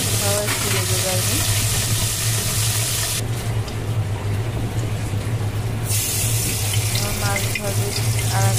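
Fish fries in a pan in a home kitchen, giving off a loud, continuous crackling sizzle that shifts in intensity as the pieces are moved about.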